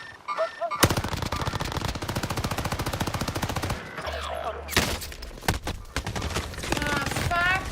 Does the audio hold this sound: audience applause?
no